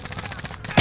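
Rapid automatic gunfire from a Call of Duty Warzone match, a steady rattling burst of shots ending in a louder, heavier blast right at the end.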